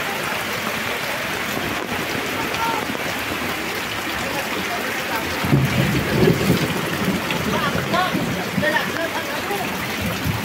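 Heavy typhoon rain pours steadily over a flooded area, a dense continuous hiss with a louder surge midway, while a voice speaks faintly beneath it.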